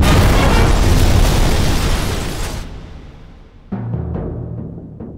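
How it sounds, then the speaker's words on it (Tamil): Diwali rocket firework bursting in a Tamil movie scene, a loud boom and crackling roar that fades over a few seconds before a softer second burst of noise. "அதான் விட்டேன் ஒரு தீபாவளி ராக்கெட்"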